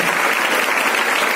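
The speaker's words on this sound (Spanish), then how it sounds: "un aplauso para Xavi" Dense, continuous applause from a large audience at the Liga Endesa 2018-19 basketball season presentation, a loud, even wash of clapping with no gaps.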